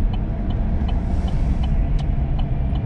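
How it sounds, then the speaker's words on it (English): Heavy low truck engine rumble drones continuously from inside the cab while driving downtown, with faint intermittent clicks and rattles over the steady roar. "The truck is very noisy compared to my voice"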